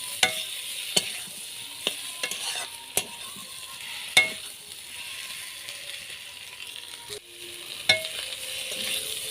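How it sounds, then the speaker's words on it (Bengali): Potatoes and pointed gourd are stirred and fried with spices in a pan. A steady soft sizzle runs underneath, broken by sharp, irregular scrapes and knocks of the spatula against the pan. "সব মশলার সঙ্গে আলু পটল ভালোভাবে মিশিয়ে কষিয়ে নিয়েছি।"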